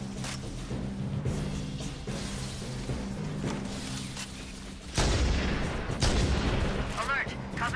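Turret fire in the Halo: Combat Evolved video game, heavy booming shots and crackling bursts rolling on continuously at a loud, close level, with a voice talking over part of it.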